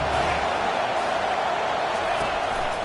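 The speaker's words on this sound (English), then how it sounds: "Decibels rising as the crowd gets behind this defense on 3rd down." Stadium crowd roar swelling on third down in a college football video game, a dense steady wash of cheering held loudly throughout.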